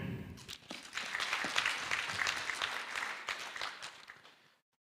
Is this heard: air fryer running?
no